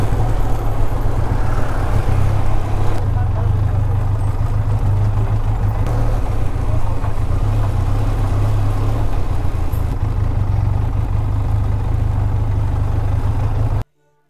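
Road traffic in Kagal taluka near Kolhapur: a steady, fairly loud drone of car and motorcycle engines passing close by, continuous with no talk, ending abruptly.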